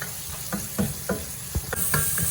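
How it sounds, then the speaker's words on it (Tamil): Onions with salt frying in a pan for prawn puttu sizzle softly as a spoon stirs them in a string of distinct, close scrapes and taps. "இதை வடிவாக கிளறி போட்டு இது வந்து நல்லா வதங்கி வரட்டும்"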